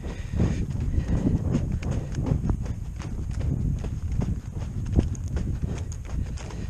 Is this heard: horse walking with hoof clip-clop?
yes